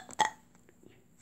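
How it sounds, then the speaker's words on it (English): A baby lets out a single short burp, close and fairly soft, followed by faint small noises in a quiet room. "so she needs to burp"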